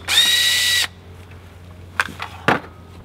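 A power drill whirs loudly for just under a second while backing screws out of a wooden chicken coop board, followed by a few brief clanks and handling knocks.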